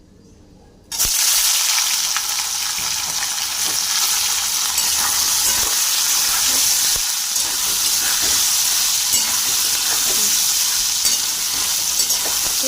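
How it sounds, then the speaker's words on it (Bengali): Soybean chunks drop into hot oil and burst into a loud, continuous sizzle with steam hiss and occasional stirring clatter, close up after a quiet first second. "এবার তেলটা গরম হয়ে গেছে, সয়াবিন জল ঝরিয়ে ভেজে নেব"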